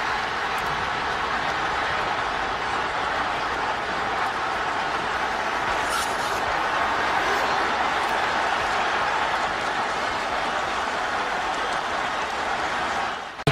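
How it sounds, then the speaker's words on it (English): Dense roar of a football stadium crowd at an Eagles playoff game, swelling steadily and staying loud and continuous throughout without letup. "And now you hear the crowd because they sense that Michael Vick is in the game"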